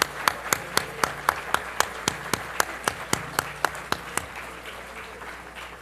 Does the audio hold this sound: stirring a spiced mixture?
no